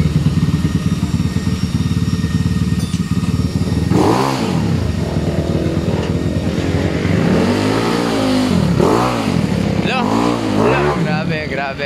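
A lowered motorcycle's engine starts and idles with a steady rumble, then is revved hard in several loud, rising bursts close by.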